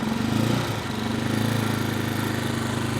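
A Janus 250 motorcycle engine warms up with the choke at the middle setting, idling steadily at low RPM with a continuous mid-pitched rumble and a slight dip early on, close and alone.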